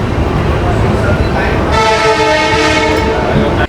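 The 22974 Puri–Gandhidham weekly superfast express pulls out of Puri with a long, loud horn blast over rumbling wheels and carriage noise, heard close from on board, with a voice speaking over it.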